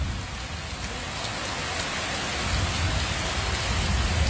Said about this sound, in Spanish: Miren, comienza a llover en San Alejo, señores.